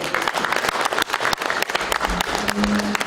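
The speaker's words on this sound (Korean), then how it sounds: "오늘 토론에 참가해 주신 신율 교수님을 비롯한 발제자 두 분, 토론에 임해주신 네 분께 뜨거운 박수를 보내주시기 바랍니다" Audience at an academic seminar on unification issues claps for the panelists and presenters. The applause is dense, sustained and fairly close, with a few louder individual claps standing out.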